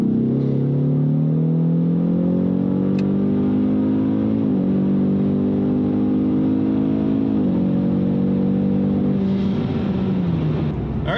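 A Ford Mustang on factory spark plugs pulls hard in fourth gear from about 50 to 100 mph, its engine drone climbing steadily and loudly from inside the car, with a brief dip mid-run and no talking.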